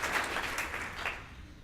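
Audience applause at a college Founders Day ceremony, a steady wash of clapping from a crowd that fades slightly toward the end.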